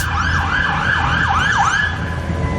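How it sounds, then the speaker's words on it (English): An ambulance siren wails in repeating up-and-down sweeps, loud and steady over a constant rumble of traffic in Tibás, San José, Costa Rica, with no voices. "There's an ambulance."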